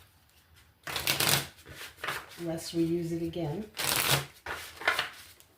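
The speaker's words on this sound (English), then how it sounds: "I'm just going to give this a little shuffle," Tarot cards are riffled in two crisp, close shuffling bursts, with a person talking softly between them.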